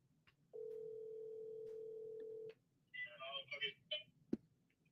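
A phone call being placed back: a steady dial tone holds for about two seconds, then a quick run of dialing tones follows, with a faint sharp click at the end; quiet and close, with no talk.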